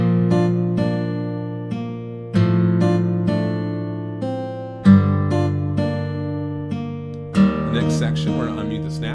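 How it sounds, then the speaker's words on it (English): A lone acoustic guitar track in a Soundtrap recreation of a song. Sustained chords are strummed every couple of seconds in a steady, close, clear pattern with nothing else playing. "We're gonna start by muting everything except the acoustic guitar"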